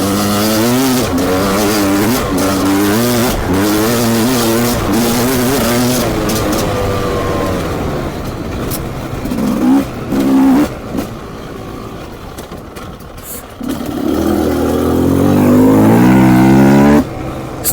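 A 300 two-stroke motorcycle engine revving hard, a loud rising and falling whine with rapid throttle blips, fading into rougher idling and bursts before surging again near the end, close and dominant.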